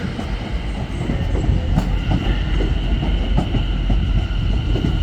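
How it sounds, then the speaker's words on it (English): A new Trenitalia c2c Class 720 electric train rumbles close by at Crewe Station with steady rolling noise and rhythmic clattering of wheels over the rails, loud and continuous throughout. "it's a new train. Trenitalia, class 720."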